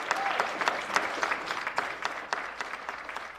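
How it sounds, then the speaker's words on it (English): Audience applause at a live speaking and performance event, a dense steady clatter of many hands clapping with sharp individual claps standing out, sustained and fairly close throughout. "let's give them one more big round of applause"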